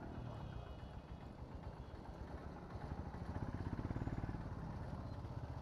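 A motorcycle engine drones on while being ridden along a road near Siliguri and Naxalbari, a steady rumbling pulse under constant road and wind noise, growing slightly louder partway through.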